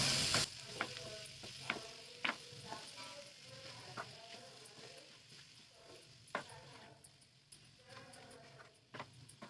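Chopped bottle gourd sautés in a pan for a Maharashtrian bharit, with a quiet steady sizzle broken by sharp clicks from a stirring spoon against the pan.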